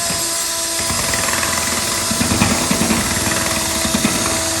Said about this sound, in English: And so then you just mix it up with your paint paddle.